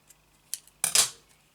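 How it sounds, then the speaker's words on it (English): Scissors snip excess fabric on a Christmas craft paperclip: a brief, close double cut near the end of an otherwise quiet moment, with a few faint handling clicks before it. "If you feel it's too bulky you can just snip it off like this."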